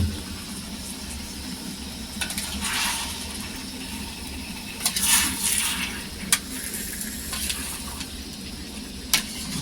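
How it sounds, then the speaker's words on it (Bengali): A pot of echor (young jackfruit) cooked with a little warm water and stirred, giving a steady soft sizzle with scraping strokes and a few sharp clinks of the spoon against metal. "প্রথমে হালকা একটু জল দিয়ে নাড়াই"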